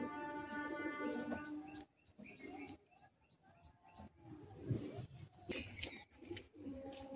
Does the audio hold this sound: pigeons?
yes